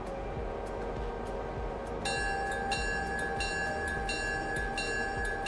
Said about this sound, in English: The bell's kind of loud on this engine.